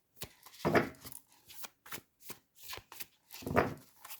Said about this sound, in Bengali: কার্ড পড়ে যাচ্ছে